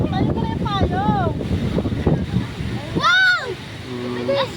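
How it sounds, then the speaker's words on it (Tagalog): Strong wind buffets the microphone at a hilltop overlook in Angono, Rizal, a steady low roar running throughout under excited voices of people talking and calling out. "Lakas ng hangin"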